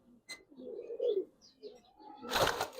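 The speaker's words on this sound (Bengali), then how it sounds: "এই দুইটাই মাদি কবুতর" Giribaz pigeons at a Bangladeshi bird seller's make soft, low cooing calls in short repeated phrases, close by, with a brief clatter near the end.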